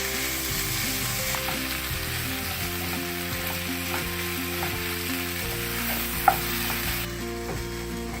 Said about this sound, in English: So saute this for about 3 minutes or until the tomatoes are soft.